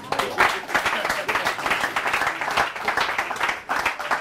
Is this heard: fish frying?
no